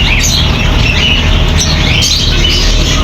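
Pigeons in a pigeon shop calling and chirping over a dense, loud, steady background hum, the bird sounds close and continuous.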